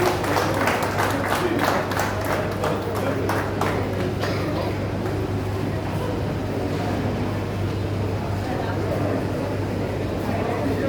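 Loud crowd applause from an audience at a gathering, dense rapid clapping strongest at first then thinning into a steady wash over a low constant hum.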